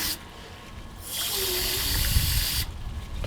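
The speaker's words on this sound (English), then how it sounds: "I just add the water, seal that back up." Water pours in a steady, close rushing stream into a backyard chicken waterer for about a second and a half, then stops.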